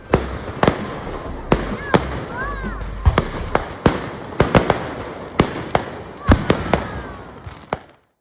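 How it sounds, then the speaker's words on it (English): Fireworks burst during a town's Christmas festivities, a dozen or so sharp cracks and pops at irregular intervals with faint whistles, heard from a distance over a murmur of crowd voices. "there's gonna be fireworks in town"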